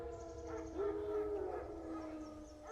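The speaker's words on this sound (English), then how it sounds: "Wild dogs. Yes. More dangerous than wolves." Wild dogs in The Witcher 3: Wild Hunt let out a faint, wavering howl. Tonal wails rise and fall over a low rumble and sound distant, with no talking.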